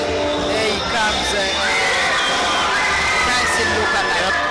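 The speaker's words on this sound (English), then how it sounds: "Everyone's cheering every time they announce his name." Arena crowd at a fight event cheering a fighter's walk-in, a loud sustained roar of shouts and whoops throughout.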